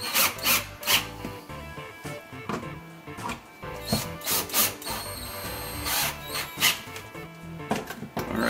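Screws being turned and snugged on a Kenmore dishwasher during a drainage and noise repair, giving close, irregular metallic scraping and ratcheting bursts with short pauses between turns, no talking.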